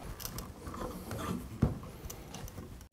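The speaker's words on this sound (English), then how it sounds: "So you put quite a few clamps on here as well?" Wood clamps are tightened during wood lamination, giving soft ratcheting clicks and mechanical rubbing with a sharper knock partway through, close and fairly quiet.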